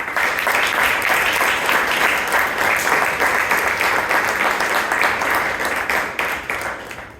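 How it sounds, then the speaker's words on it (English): Sustained applause from a Toastmasters meeting audience, a dense, steady wash of many hands clapping at a fairly loud, even level that tapers slightly at the very end. "Let's give our speaker a huge round of applause."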